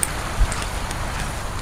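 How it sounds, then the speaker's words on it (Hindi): Steady heavy rain in Makkah hisses without a break, a dense wash of noise with a faint low thump partway through. "बारिश अभी और तेज़ हो गई है"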